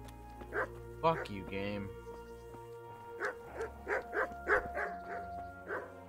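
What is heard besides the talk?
dogs barking in Kingdom Come: Deliverance video game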